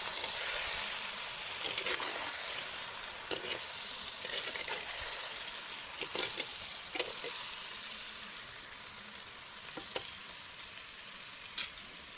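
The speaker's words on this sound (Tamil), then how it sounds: "நம்ம கழுவி வச்ச சிக்கனை சேர்த்துக்கலாம். சிக்கனை நல்லா கலந்து விட்டுக்கலாம்." Washed chicken pieces stirred and frying in a pan for village-style chicken gravy, a steady bright sizzle broken by repeated scraping clicks of the spoon, moderately quiet and close.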